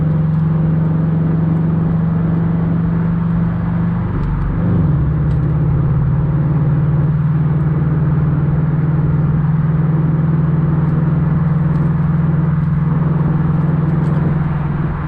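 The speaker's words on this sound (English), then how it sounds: "I was hoping for a better sound out of the S209." Steady, loud drone of a Subaru S209 engine while driving in low gear up a mountain road, a constant low hum with a brief dip partway through, no talk.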